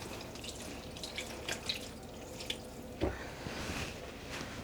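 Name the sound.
water squeezed out of soaked yarn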